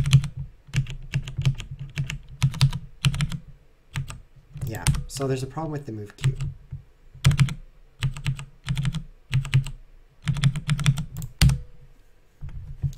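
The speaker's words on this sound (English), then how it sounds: "What if we do it with the keyboard?" Computer keyboard typing comes in bursts of quick, close keystrokes while playing a chess arcade game, with pauses between runs and someone talking briefly in the middle.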